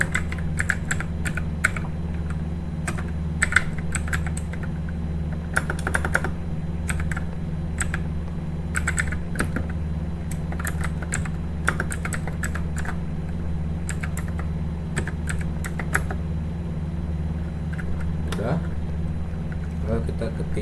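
A computer keyboard is typed on in quick bursts of close, crisp clicks with pauses between them, over a steady low hum, while a person talks through most of it.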